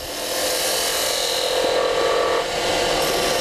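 A lathe gouge scooping out a cove in spinning wood, a continuous close rasping, scraping cut that holds steady for several seconds with a slight change in tone partway through.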